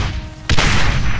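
A German 88 artillery gun fires in the Brothers in Arms video game, a single sudden loud boom followed by a sustained rumbling roar.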